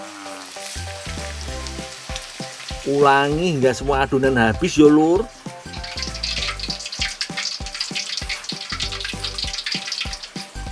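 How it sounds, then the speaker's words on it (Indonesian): Breadcrumb-coated vada nasi deep-frying in hot oil makes a steady close sizzle and bubbling, with someone talking over it and a burst of music partway through. "Kemudian goreng dalam minyak panas."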